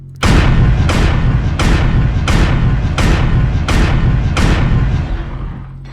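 AC-2 autocannon in MechWarrior Online firing a steady burst of seven loud, booming shots at even intervals, each a heavy thump with a sharp crack, filling the whole stretch alone.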